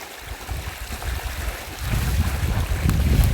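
Water flowing over stones in a small man-made waterfall along a garden stream in autumn: a steady outdoor rush and burble that grows louder partway through, with no one speaking.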